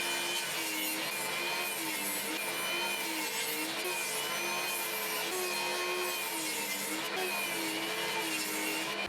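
A table saw rips wood boards down to final thickness, a loud continuous whine with a steady grinding rasp that holds throughout and barely varies, with no voices over it.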